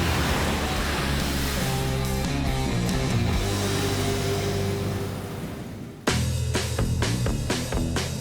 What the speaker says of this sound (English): Gentlemen, rev your engines.